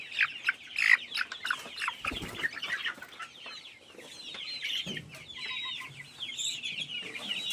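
Rhode Island and black Australorp chickens cluck and chatter near at hand, with several birds calling over one another in an irregular, continuous flock murmur and no talking.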